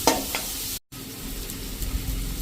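Spices and chilli powder cooking in hot oil for a vegetable curry make a continuous close sizzle, broken once by a short moment of silence.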